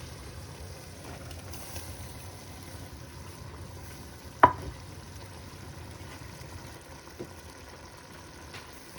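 King prawns dropped into a hot pan for Greek garides saganaki, giving a steady low sizzle of frying with one sharp clatter midway and a few faint stirring knocks after.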